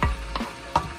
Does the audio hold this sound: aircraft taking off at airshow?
no